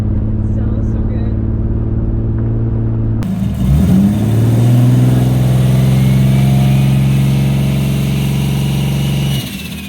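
Toyota Supra MK4 with a 76mm turbo engine idles loud and close, then revs up hard in a rising, sustained roar that holds steady before dropping off abruptly at the end.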